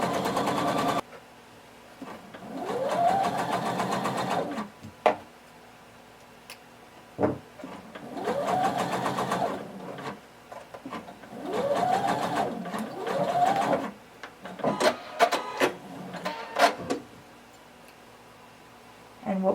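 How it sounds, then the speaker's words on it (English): A sewing machine stitches a waistband with a 5/8 inch seam allowance, running in four steady whirring runs of a few seconds each, with clicks and handling noises in the pauses between, close and fairly loud. "Using 5/8 of an inch seam allowance, sew all the way till you reach the end of the waistband."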